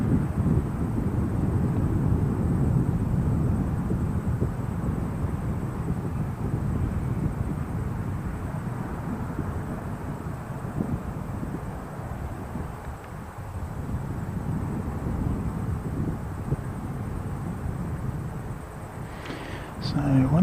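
Jetstar airliner passing an airport during plane spotting, a broad low rumble that holds steady across the whole stretch with slight swells, while people talk faintly over it.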